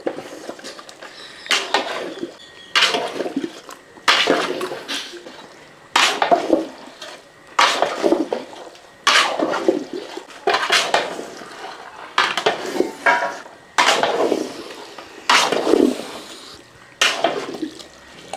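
A spoon scraping and knocking through Indian plum (lubikka) pickle in oil in a metal pot, in repeated rhythmic bursts about every second and a half, close and fairly loud, with no talking.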